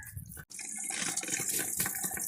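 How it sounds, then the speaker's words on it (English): Water gushes steadily from a micro camper van's sink faucet as the line is primed to push out trapped air, a close, continuous rushing hiss broken only by a brief cut near the start. "what we're doing now is just priming the sink, getting all the air out of the line"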